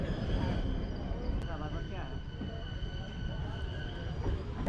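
Steady low rumble of a local train from Kolkata to Deoghar rolling along the tracks, with faint squeals and rattles, continuous throughout.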